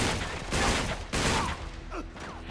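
Rapid gunfire in the Uncharted 3 London Underground level, dense bursts of shots in two or three loud clusters, with brief gaps between them and no voices.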